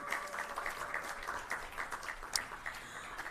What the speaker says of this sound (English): Please keep the applause going for them